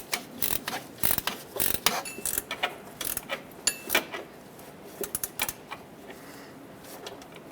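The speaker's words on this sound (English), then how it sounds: "Let's tighten up this idler pulley / alternator support bolt." A ratchet tightens the idler pulley and alternator support bolt on a 2010-2017 Chevrolet Equinox, giving close, quick metallic clicking in uneven bursts with brief pauses and small clanks of tools.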